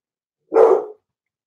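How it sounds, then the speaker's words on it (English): A single short dog bark, fairly close and loud, standing alone with no talk around it. "That's my dog in the background."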